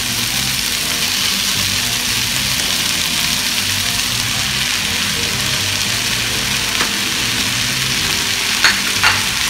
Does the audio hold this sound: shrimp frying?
yes